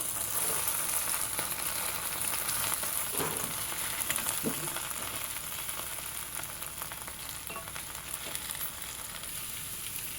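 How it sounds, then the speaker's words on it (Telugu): Potatoes and fenugreek leaves fry in a pan with a steady, dense sizzle that holds for the whole stretch, broken by a few soft scrapes of stirring and no voices. "సో ఇట్లాగే కొంచెం ఫ్రై అవ్వనివ్వండి"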